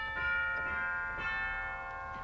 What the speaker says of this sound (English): We've got cathedral chimes.